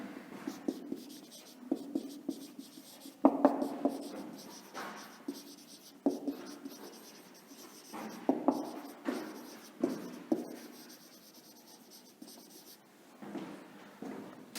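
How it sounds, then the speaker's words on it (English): Pen writing on paper during a classroom English lesson, steady scratchy strokes with frequent short taps and pauses, close and fairly faint, with a voice occasionally heard in the background. "Write with me."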